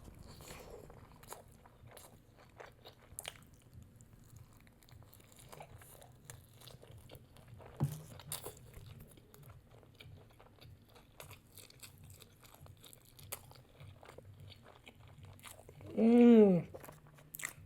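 Someone bites and chews fried chicken dipped in ranch, with soft crunches and wet chewing through a quiet stretch, ending in a louder hummed murmur of enjoyment.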